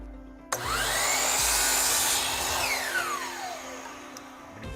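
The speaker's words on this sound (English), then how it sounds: "So I'm just going to trim a blade width or so off of this end." A saw trims a blade width off the end of a wooden table-leg board, starting with a sharp onset and then a loud sustained whine of the blade through the wood, fading at the end.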